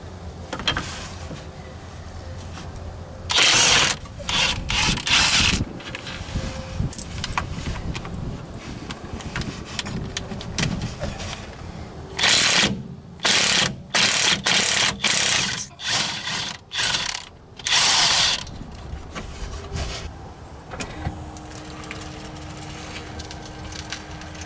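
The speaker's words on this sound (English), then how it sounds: "So now I'm going to use my impact and a 17mm socket to remove them." An impact wrench fitted with a 17mm socket drives out bolts on a Lexus GS350 during front hub and wheel bearing replacement, loud rattling bursts of several seconds each, in two groups with quiet pauses between them.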